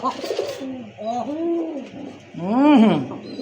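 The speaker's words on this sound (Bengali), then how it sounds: "দেখেন নরের ডাক দেখছেন, খুব সুন্দর।" A male Rasgolla pigeon coos close by in a series of rising and falling calls, building to a louder, fuller coo at the end, with little else around it.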